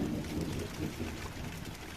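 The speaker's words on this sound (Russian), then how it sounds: "Дождь просто сносил косой все." Heavy rain and a windy storm in Sevastopol make a steady, dense roar of downpour and gusts that is fairly faint and unbroken, with no voices.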